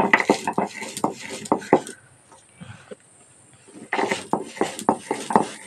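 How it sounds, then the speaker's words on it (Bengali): Dry-roasted spices, with no water added, ground by hand on a Bengali shil-nora grinding stone for tamarind pickle: a run of rhythmic knocking, scraping strokes, a brief quiet gap, then the strokes resume close and clear. "এই যে ভাজা মশলাটা, সেটা শিলনোড়ায় বেটে নেবো"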